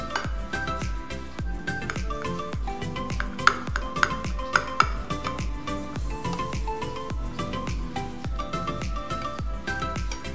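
A Spanish omelette is cut in the pan, with rapid, regular scraping and tapping of a utensil against metal, close and fairly loud throughout, with no talk.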